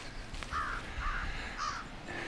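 Crows cawing at a waterfront on Prince Edward Island, Grand Tracadie, a few harsh calls in a row against quiet outdoor background, fairly distant and alone.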